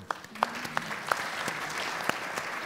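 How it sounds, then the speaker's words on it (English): An audience at a talk event applauds, a fairly faint wash of scattered clapping with a few sharper individual claps standing out, heard from a distance. "Big round of applause for everybody."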